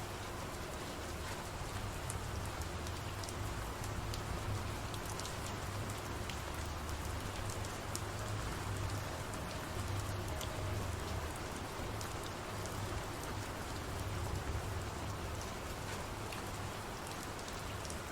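Rain falls on foliage as a weather sound effect: a dense, even hiss of droplets that stays faint and continuous throughout, with no voices.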